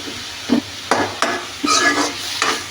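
Red amaranth leaves stirred in a pan, a loud close run of rhythmic spatula scrapes and clanks, about six strokes over a soft sizzle, no talking.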